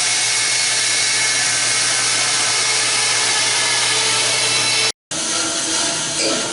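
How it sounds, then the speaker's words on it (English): A bandsaw cuts through a wooden inlay for a kayak deck, giving a loud, steady whining roar that drops out briefly near the end and then resumes. "I'm going to attempt to clean up a bit of this on the bandsaw here"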